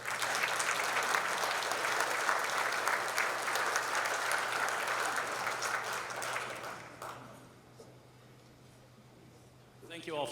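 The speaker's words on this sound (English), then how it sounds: "Thank you all for clapping for me" An audience applauds steadily at a Hall of Fame award ceremony, a dense even clapping that fades out after about seven seconds, leaving a quiet room and a low hum.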